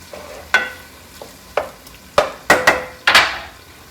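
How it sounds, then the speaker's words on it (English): A spoon stirs penne pasta sauce in a pan, giving several sharp scraping knocks against the metal spaced unevenly over a low background sizzle, close and clear. "And we give that a stir"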